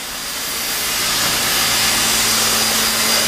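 A PT47 steam locomotive stands in steam inside a dark working shed at Wolsztyn, giving off a steady, loud hiss with a faint tonal whine that swells slightly at the start.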